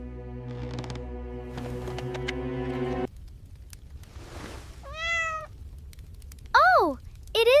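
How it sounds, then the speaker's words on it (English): A cat meows several times close by, rising and falling cries that follow a stretch of indoor noise, one loud drawn-out meow standing out near the end. "Oh, it is just a cat."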